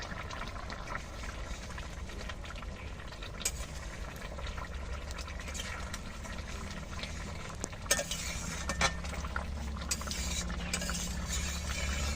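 A spoon stirs a potol, potato and egg dish in a pan, with soft steady scraping and low sizzling throughout and a few sharper utensil clicks near the end.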